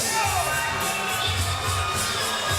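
Arena crowd at a Glory 43 kickboxing Super Fight Series event roaring and cheering after a knockout win by Joe Taylor of Lockport, New York, a dense, sustained wall of cheers and shouts with no pauses.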